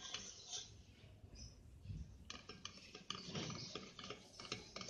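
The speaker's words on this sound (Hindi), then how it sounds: "और चमचा मुस्तकिल चलाना है, छोड़ना नहीं है।" A spoon stirring sooji halwa as it roasts in a pan, giving repeated soft scraping and clinking strokes against the metal, close and fairly quiet, with no talk.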